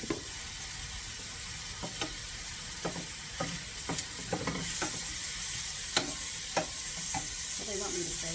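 Ham and macaroni sautéing in a pan give a soft continuous sizzle, broken by sharp clicks and scrapes as a utensil stirs them. The scrapes come at irregular intervals and the sizzle is fairly quiet and close.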